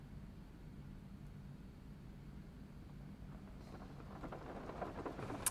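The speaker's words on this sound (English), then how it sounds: "the sounds of rain falling on the Tokyo streets outside" Rain falls on Tokyo streets outside during monsoon season, a faint, steady hiss with a low rumble beneath that swells slightly toward the end.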